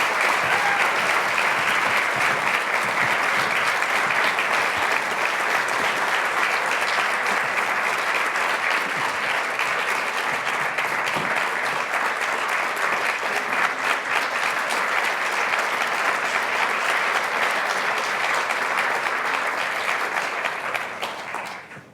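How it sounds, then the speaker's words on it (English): Long, steady round of applause from an audience at an innovation award ceremony, dense clapping holding a constant level for about twenty seconds before fading sharply at the end. "round of applause from audience"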